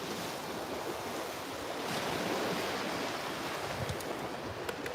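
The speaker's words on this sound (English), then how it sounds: "the water's a lot clearer today because the waves are a lot calmer" Calm ocean waves wash continuously onto the shore at low tide, a steady broad hiss of surf with light wind and no voices.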